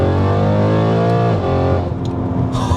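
A BMW E92 M3 with a loud custom exhaust revs up close, its deep harmonic engine roar rising and then falling off into a burbling idle.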